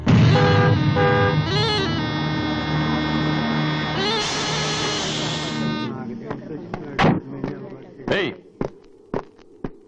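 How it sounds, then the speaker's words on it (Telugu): A vehicle horn blares on a road in long, sustained tones that shift pitch partway through, then gives way to a few sharp knocks and short bursts of noise. "దారి కట్టగా నిల్చొని హార్న్ కొడుతుంటే వినపట్టాలా?"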